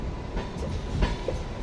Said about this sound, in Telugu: మన ట్రైన్ మల్కాజ్గిరి జంక్షన్ నుంచి అయితే బయలుదేరిపోయింది